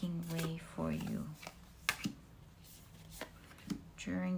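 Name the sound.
shuffling tarot cards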